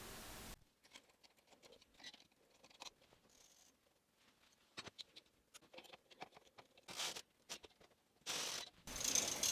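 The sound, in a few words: Brother knitting machine carriage knitting a row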